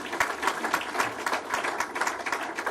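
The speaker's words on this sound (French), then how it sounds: "Je nous demande de l'encourager par des acclamations." Conference audience at a pan-African prize ceremony claps in a fairly soft, steady patter of many hands, heard from some distance, with no voices standing out.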